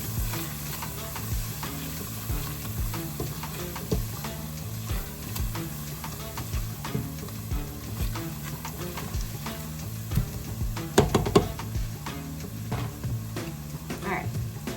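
Spoon scraping and stirring garlic powder into clam chowder ingredients in a pot, a steady knocking rhythm of stirs against the pot sides with a brief louder clatter near the end, alone and close.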